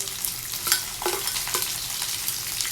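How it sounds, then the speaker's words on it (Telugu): Spices, garlic and onion frying in a pan, a steady moderate sizzle with a few light spoon scrapes and taps spaced through the few seconds, no voices. "ఈ దినుసులన్నీ కూడా కొంచెం లైట్గా ఫ్రై అయిన తర్వాత నెక్స్ట్ మనము గార్లిక్ యాడ్ చేస్తున్నామండి"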